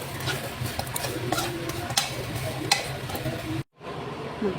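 Potatoes are stirred in a pan for shawarma, giving a steady sizzle with repeated scraping and clicking strokes of a utensil. The sound cuts out briefly near the end, then returns.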